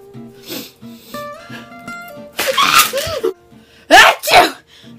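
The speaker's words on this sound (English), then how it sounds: "Achoo!" A single loud, close sneeze with a sharp burst follows quiet talk and movie-like background sound, and a second explosive sneeze-like burst comes shortly after.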